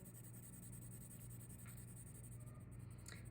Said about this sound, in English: Now when I color this in, I'm gonna color it in really flat and really dark, using the edge, the side of my pencil.